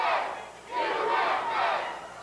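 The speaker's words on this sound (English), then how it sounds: "the crowd not showing any respect to Super Destroyer, chanting USA, USA" A pro wrestling crowd at an indoor show chants in unison, rising and falling in three loud, rhythmic swells of massed voices.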